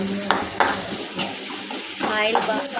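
Curry leaves added to onions frying in a pan, giving sharp sputtering crackles and sizzling bursts over a low hiss, with stirring scrapes in between.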